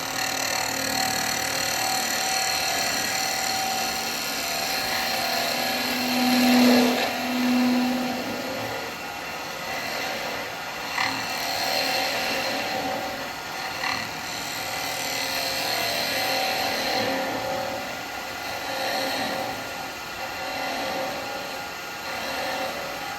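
A wood lathe runs continuously while a tool flattens the end-grain top of a spalted wood vase, giving a steady droning whir with faint cutting scrapes throughout.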